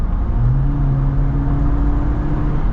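The 2.0 engine of a 2024 Jeep Wrangler Sport S pulls under acceleration with a loud, steady, rising drone heard from inside the cabin.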